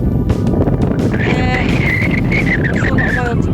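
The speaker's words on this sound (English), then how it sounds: "It's really hard cycling against the wind." Strong gusting wind, around 30 mph, buffets the microphone of a cyclist riding on the island of Tiree, Scotland, a loud constant roar with a faint whistling tone riding over it.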